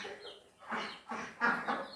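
A small black-meat hen in an Uttar Pradesh village gives a few short soft clucks in quick bursts, fairly close but quiet.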